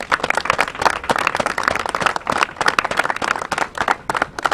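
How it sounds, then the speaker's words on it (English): An audience claps for Blue Sky Construction at a community gathering, a dense, steady patter of many hands that carries on evenly for several seconds without talk. "let's give them a round of applause"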